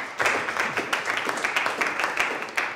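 Audience applause for young slam poets in Congo, a dense steady patter of many hands clapping at close range, sustained evenly throughout with no speech over it.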